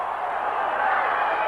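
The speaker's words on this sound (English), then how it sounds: "Crowd in Madison Square Garden loves this." A boxing crowd cheers in Madison Square Garden during a 1957 bout, a steady roar of many voices that stays loud and continuous through the short moment.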